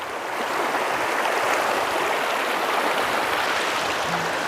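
Someone wades through a stream, with loud, continuous rushing water close by and no talking.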